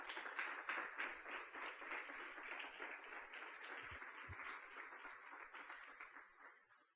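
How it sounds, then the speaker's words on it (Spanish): A church congregation applauds steadily with dense clapping, then the applause gradually fades toward the end. "Y dan un aplauso al Señor."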